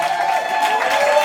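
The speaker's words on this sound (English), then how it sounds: "Y'all make some noise for all the beautiful women in the house." Comedy-show crowd cheering and clapping for the women, a dense, continuous wash of applause and voices filling the room at close range.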